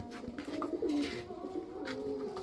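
A pigeon coos softly nearby in a loft of Giribaz high-flyer and racer pigeons, a few low throaty rolling calls with faint background chatter.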